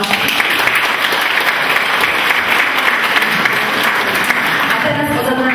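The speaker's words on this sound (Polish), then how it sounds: "Bardzo proszę o brawo" An audience at a Polish awards ceremony claps steadily, loud and sustained, with no break and a faint hint of a voice beneath.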